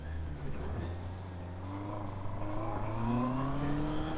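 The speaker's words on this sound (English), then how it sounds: "I'm not sure if you could hear the revs pick up," A Honda motorcycle fitted with the E-Clutch system pulls away from a stop, its engine note climbing steadily in pitch as the revs rise, heard close and fairly loud with road and wind noise underneath.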